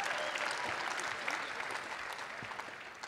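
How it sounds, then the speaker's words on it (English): Dense, steady crowd applause fills the room at a UFC 193 fan Q&A event in Melbourne, loud and continuous throughout with scattered cheers and no clear talk. "I think he deserves a big fucking round of applause."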